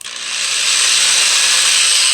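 A Black & Decker drill fitted with a Dremel cutter spins up and cuts into wood, a loud, close, steady high-pitched whine that holds without a break.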